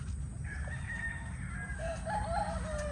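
Chickens on a farm where young chicks and stags are raised on dry feed, giving a few scattered crows and clucks over a constant low rumble of background noise.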